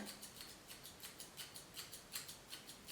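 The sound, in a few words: scissors point cutting hair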